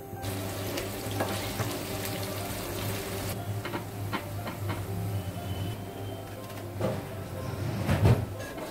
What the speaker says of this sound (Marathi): हा कांदा आपण फ्राय करणार आहोत बिर्याणीसाठी। तर मी तळून घेते आता